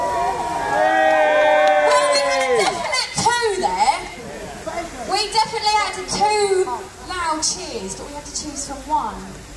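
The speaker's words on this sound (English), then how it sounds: "all of you got to give the loudest cheer you can for the girl that you want to win" A live summer event audience of mostly girls and young people cheering as loudly as they can, with shrill, dense, overlapping high-pitched screams and shouts.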